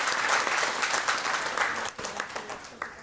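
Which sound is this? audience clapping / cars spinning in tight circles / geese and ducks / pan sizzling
audience clapping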